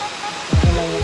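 Steady roar of rushing water at Tung-Tung Falls in Jose del Monte, Bulacan, a broad close wash of noise with a short low vocal sound near the middle.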